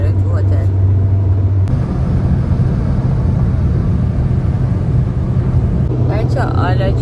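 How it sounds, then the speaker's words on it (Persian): Inside a moving taxi, a steady low road rumble and engine drone fill the cabin throughout, while someone talks over the noise. "داریم با تاکسی میریم"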